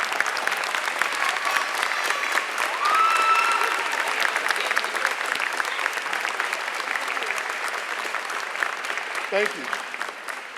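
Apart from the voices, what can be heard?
audience applause for parents and supporters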